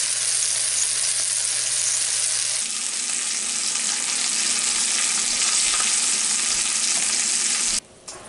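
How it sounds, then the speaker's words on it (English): Garlic mushroom pork chops frying in a pan, a steady, loud sizzle that continues without a break and cuts off abruptly near the end, with no talking. "about 3 to 5 minutes on each side."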